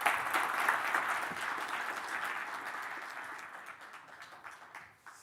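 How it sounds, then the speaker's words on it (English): Applause from a keynote audience at an AI engineering conference for a departing speaker, a dense crowd clapping that starts strong and gradually tapers into quieter scattered claps before dying away. "can we get a big round of applause for Michael?"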